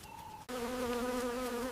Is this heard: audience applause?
no